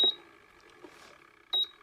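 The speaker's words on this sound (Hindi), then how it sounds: "देखिए अभी इसमें बर्तन नहीं रखा है तो यहाँ पे बीप बीप करेगा" An induction cooker with no vessel on it gives two short, sharp electronic beeps, one at the start and another about a second and a half later, close and clear over a faint background hum.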